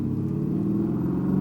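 Mercedes AMG pulling out of the pit lane on a track, a steady, loud engine drone with a deep rumble, close and continuous.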